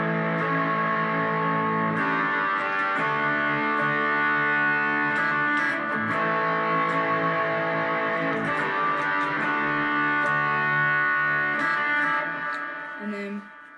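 Electric guitar on the bridge pickup playing a verse part from a song, sustained notes with effects and reverb wash, steady and moderately loud, no talking.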